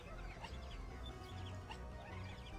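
Small creature chirps and hiccups in the Skies of Arcadia video game, quick bird-like clucks and chirps repeating over a low rumbling background, fairly faint.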